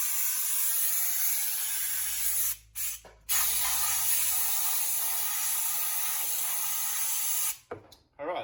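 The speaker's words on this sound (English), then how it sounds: "Blow it off with the air" Compressed air from a shop air line blasts against the back of a Toyota Landcruiser brake rotor, a loud continuous hiss that cuts out briefly twice, once near the middle and again near the end.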